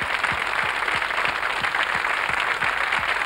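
Steady audience applause on a French television show, given for three backing singers, a continuous wash of clapping throughout with faint rhythmic thumps underneath.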